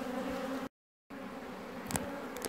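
Honey bees buzz steadily and close around a pill bottle queen cage, a dense insect drone broken by a brief silent gap and a few louder passes of individual bees.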